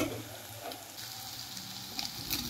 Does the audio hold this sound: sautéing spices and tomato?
yes